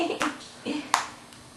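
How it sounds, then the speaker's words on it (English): A toddler girl claps her hands as she walks around the house, with several sharp separate claps spaced through the moment, close by and fairly loud, with an adult voice faintly around them. "She's clapping as she goes."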